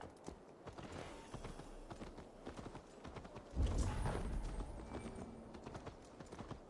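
Horse hooves clip-clop steadily through Assassin's Creed Valhalla, a quick even trot that turns heavier and louder past the midpoint, as though the horse draws close and comes to a stop.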